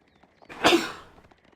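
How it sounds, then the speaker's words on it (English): A single person sneezes once, close by, in a short sharp burst that tails off. "I'm going to sneeze."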